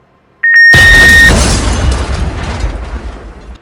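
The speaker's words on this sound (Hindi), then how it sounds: "एक जोरदार धमाका होता है।" A sudden, loud explosive blast from a suicide bombing follows a few short electronic beeps, then a long rumbling, crackling decay fades out.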